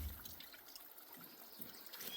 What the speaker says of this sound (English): You can hear that water dripping off.